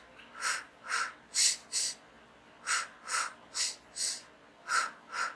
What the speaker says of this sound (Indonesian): Cara melewatinya pada saat kontraksi yaitu dengan teknik bernafas pendek dan cepat